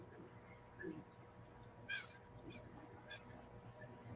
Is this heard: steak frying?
no